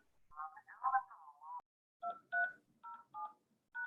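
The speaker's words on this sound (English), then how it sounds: "I still hear someone else dialing in or something." Telephone keypad tones from someone dialing into a meeting by phone: a quick run of beeps, a short pause, then several separate button presses, each a clear, moderately loud tone.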